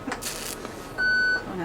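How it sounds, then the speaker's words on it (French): Prismaflex dialysis machine switching on with a single steady electronic beep lasting under half a second, heard after some brief indoor shuffling noise. "On allume la machine."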